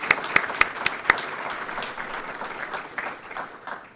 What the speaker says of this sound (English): Let's please give them a big round of applause.